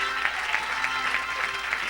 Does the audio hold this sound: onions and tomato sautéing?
no